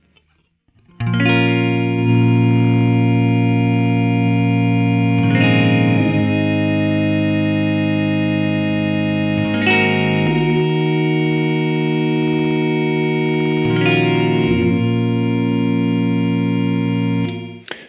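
An electric guitar runs through a freeze sustain pedal, building held drones into layers. A new chord is struck roughly every four seconds and rings on without decay, loud and alone.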